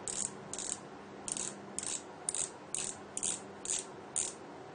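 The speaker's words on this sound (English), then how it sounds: "this is supposed to be surely a constant torque handle" A constant torque handle ratchets in short, regular clicking bursts, about nine of them, as a screw is tightened while fitting a rudder servo. It is close and clear, with no talk.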